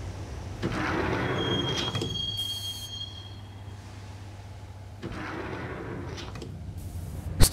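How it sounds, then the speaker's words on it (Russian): Subway train doors slide shut in the video game Max Payne, with a pneumatic hiss and clunk, then a low rumbling hum and another burst of mechanical rattling as the car moves off. "двери поезда за мной уже закрылись"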